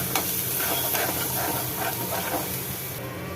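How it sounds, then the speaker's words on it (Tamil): Chopped large onion with turmeric powder sautéed in a pan for a banana stem side dish, a dense close hiss with rhythmic stirring scrapes and no talk. "இப்போ இதை வதக்கிக்கலாம்."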